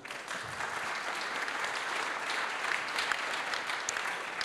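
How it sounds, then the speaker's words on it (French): Conference attendees at a French business forum on inequality give a speaker a short round of applause, a continuous, fairly soft wash of clapping from a seated crowd. "On peut l'applaudir."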